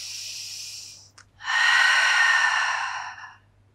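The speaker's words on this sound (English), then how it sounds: "Two more breaths." Deep breathing during a Pilates mat exercise, a long airy exhale, a brief catch, then a stronger rushing breath, close and clear with no talking.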